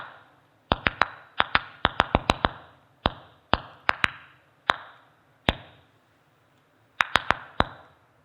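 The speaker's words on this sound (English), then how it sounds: "This is the sound of a tomato plant in distress because it hasn't been watered" A sped-up ultrasonic recording of a tomato plant stressed from lack of watering gives sharp, isolated clicks and pops, some in quick clusters and others spaced by pauses, each ending in a short faint decay.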